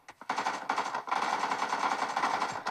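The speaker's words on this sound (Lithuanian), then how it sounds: "Čia du šaudo." Rapid bursts of automatic gunfire come from a first-person shooter video game, dense rattling volleys after a couple of single shots, loud and close with no talk over them.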